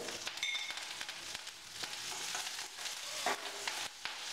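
Ginger, green chilli and curry leaves hit hot oil in a pan, a soft continuous sizzle with light spatters and a few stirring clinks, fairly quiet and without talk.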